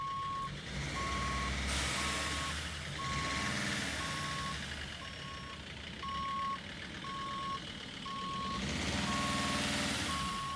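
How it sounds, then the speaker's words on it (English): A reverse alarm on a 2006 T1N Sprinter van beeps steadily in an evenly spaced pattern over a loud idling engine and bursts of air, close by, with no talking. "Oh god, it's got a backup alarm."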